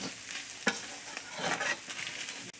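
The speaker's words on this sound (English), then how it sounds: "give that a stir until it browns into the meat" Flour is stirred into browned meat in a pan, with a soft crackling sizzle and occasional scraping strokes of the spoon, quiet and close.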